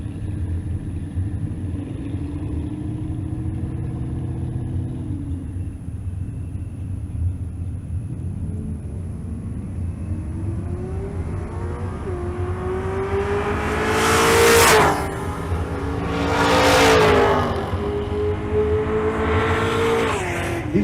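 A 1979 Camaro and a fourth-generation F-body race side by side down a drag strip, a steady engine drone building into rising revs with two loud, close roaring passes near the end.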